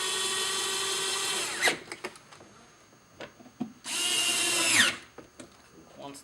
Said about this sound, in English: we'll put our two T30 screws back in up here.